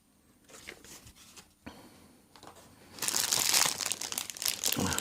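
Rustling of a nylon plastic bag holding a Sanda 289 red-black wristwatch during an unboxing, with soft crinkles at first that build into loud, dense, continuous crackling in the second half.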